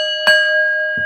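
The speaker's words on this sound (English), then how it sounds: "Let's ring the bell." A single bell struck once with a sharp attack, its steady ringing tones sustaining loudly, then a second soft strike near the end, rung in homage for Civil War dead.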